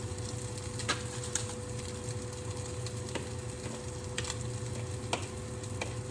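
A salmon croquette patty sizzles steadily in a smoking-hot pan on a stovetop, a continuous close crackling hiss with scattered pops and spits.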